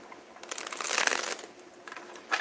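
A deck of tarot cards is shuffled close by, a soft riffling, papery flutter that swells and fades over a couple of seconds, with no talking.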